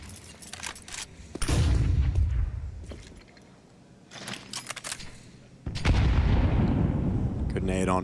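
Grenade blasts in a professional Counter-Strike match at IEM Cologne, two heavy booming bursts with rumbling decay, separated by quieter gunfire and clicks, with a caster's voice faintly underneath.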